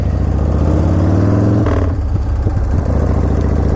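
A custom-built motorcycle pulls away on a test drive, its engine droning steadily and then shifting pitch as it moves off, loud and close with a few clicks and knocks.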